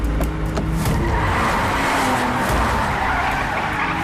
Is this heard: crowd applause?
no